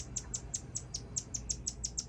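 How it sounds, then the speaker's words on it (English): A small finch chirps in a steady series of about a dozen short, high, bright notes at an even quick rhythm, fairly close, over faint low background rumble with no talk. "oh, look at that little finch."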